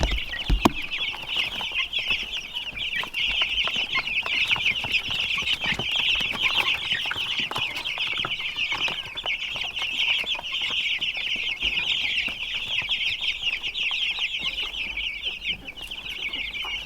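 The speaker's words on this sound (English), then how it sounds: "let's move some chickens in here" Meat chickens in a brooder or chicken tractor cluck and chatter steadily and close by for the whole stretch, a dense flock sound with no talk over it.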